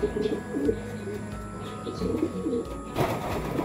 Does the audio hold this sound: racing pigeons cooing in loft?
yes